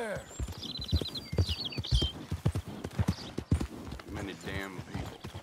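Horse hooves clip-clop steadily in a Western video game set in a busy town, the rhythmic footfalls running under frequent nearby conversation and shouted greetings.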